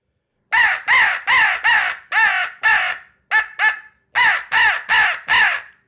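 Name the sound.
crow call imitated on a hunting call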